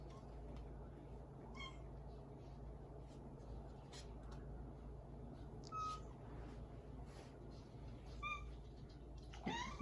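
A pet cat gives a few faint, short meows over a steady low room hum, the calls spaced apart across the stretch.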